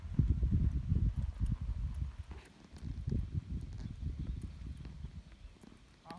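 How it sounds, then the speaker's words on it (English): A ridden horse walking through a cloverleaf riding exercise, its hooves giving a soft, steady clip-clop on the ground at close range, with no talking. "Then I'm going to let the horse straighten up and ride him forward."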